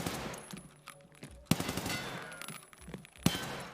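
Gunfire in a first-person shooter video game, heard as a few sharp, loud shots spaced over a couple of seconds, with game ambience and faint background sound between them.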